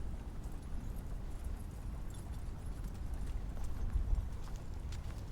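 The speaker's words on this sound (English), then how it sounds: "That horse sound." Horse hoof beats played as a sound effect during a tabletop game session, a steady clip-clop of hooves, fairly faint and continuous over low background rumble.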